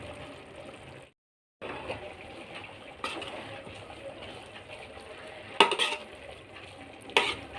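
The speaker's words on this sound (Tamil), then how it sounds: "நல்லா கிளறி விட்டுட்டு மறுபடியும் மூடி வச்சிடலாம்." Food is stirred in a pan on a low flame, with soft scraping and a quiet sizzle, a brief silent gap, and a couple of sharper metallic clinks toward the end.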